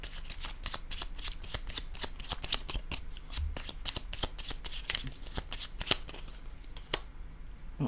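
Tarot cards are shuffled by hand in a quick run of crisp, papery riffles and flicks, close and distinct, continuing for several seconds before ending.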